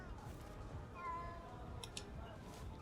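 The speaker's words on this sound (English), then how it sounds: "There's a little kitty cat." A cat meows faintly once in the Ghostwire: Tokyo video game, set against a steady ambient game soundscape with low rumble.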